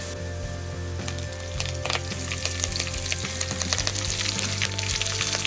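Onions sizzle in hot oil with mustard seeds and curry leaves in a village-style kitchen. The frying is loud and close, with a dense crackle, sharp pops and a low steady hum underneath.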